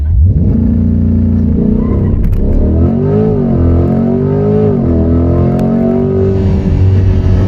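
Car in sport mode with competitive driving mode, accelerating hard in a launch control 0-60 run, its loud, close engine revving and rising steadily in pitch through the gears with brief shift dips.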